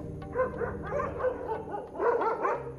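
A pack of stray dogs on an Ethiopian street yaps and barks in overlapping bursts, several voices at mid distance, with whining and yelping mixed in and no talk.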